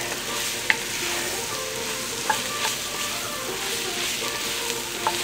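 Vegetables salted and sautéing in a pot for Creole vegetarian gumbo make a steady, close sizzle with a few light spoon taps and stirs. No one talks.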